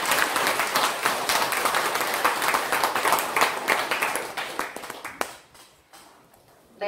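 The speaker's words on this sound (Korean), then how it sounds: "큰 박수 부탁드립니다." Enthusiastic audience applause at a Catholic retreat held at the Hanti martyrs' shrine in Korea, many hands clapping steadily for about five seconds before tapering off into a quiet room.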